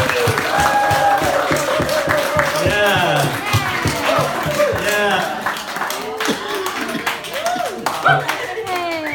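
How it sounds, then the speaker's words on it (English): An audience at a family comedy show claps in a sustained burst of applause, with scattered cheers and chatter mixed in as people talk over it. "So one big applause for Bos and the whole Rivers family"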